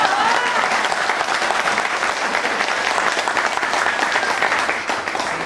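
Audience applause at a Shiv Kalyan Kendra anniversary gathering: a sustained, loud wash of many hands clapping together, steady throughout before easing slightly at the end.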